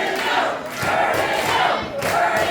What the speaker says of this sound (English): And Another Vertigo chant.